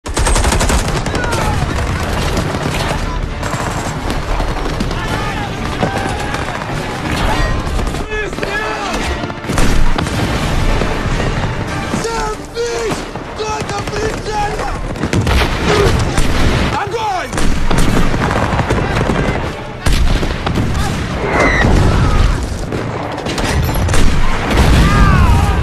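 Battle noise as German tanks cross the border: dense machine-gun bursts, rifle fire and heavy artillery booms pile up continuously and loudly, with shouting voices mixed into the chaos.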